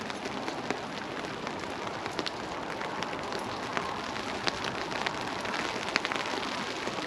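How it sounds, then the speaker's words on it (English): Heavy rain pours down steadily outdoors during a Miata coilover installation, a dense continuous hiss of drops on surfaces, loud and close, with scattered sharper spatters and no talk. "Oh boys, this is the rain. It's about as rain as we get. You see that stream? It's coming down."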